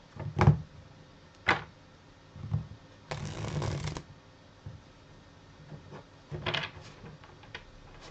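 Tarot cards being shuffled in a series of crisp riffling bursts close by, with one longer riffle in the middle and softer taps and handling in between, with no talk.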